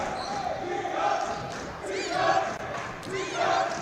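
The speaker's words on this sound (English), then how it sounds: "Cry of defense from the crowd at the end of this" Crowd at a high school girls basketball game between CHS Yellowjackets and University Academy chanting for defense, a sustained rhythmic cheer rising and falling in waves with sneaker squeaks on the court.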